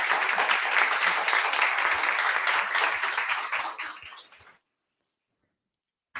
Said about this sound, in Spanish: Y si despedimos con un aplauso